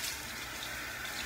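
Hot water runs steadily from a tap into a sink, a soft, even rushing splash heard close by and alone.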